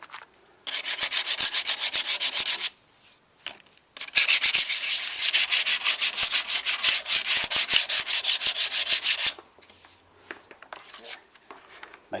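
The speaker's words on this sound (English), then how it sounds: "any smooth surfaces can't adhere paint to, so I may as well just keep it all rubbing down" Car paintwork is rubbed down by hand before painting. Close, loud, rhythmic back-and-forth abrasive scrubbing runs in two long spells separated by a short pause, and a few softer strokes follow. A voice talks close by.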